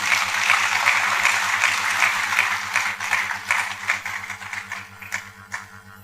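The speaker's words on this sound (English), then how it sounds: "Please a round of applause for him." Applause from a conference audience at a youth and gender equality panel, a dense patter of clapping that thins into scattered claps over a low steady hum.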